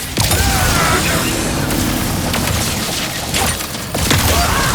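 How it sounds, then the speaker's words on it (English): Shatter Bomb grenade explosions in the game Ratchet & Clank: Rift Apart, loud booming blasts and crashing debris amid continuous dense combat noise, with several bursts hitting in succession. "The Shatter Bomb is a frag-type grenade that deals a lot of damage to your foes."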